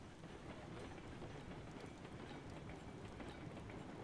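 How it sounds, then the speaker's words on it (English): A 20-car lumber train rolling downhill in the railroad game Railroads Online, a steady dense rumble of wheels on track with faint clicking, constant and fairly loud. "We're going to start picking up speed as the train gets on this downhill portion."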